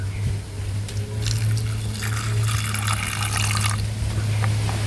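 Water poured into a cooking pot for boiling vegetables in a home kitchen, a steady splashing pour lasting a few seconds over a low background hum.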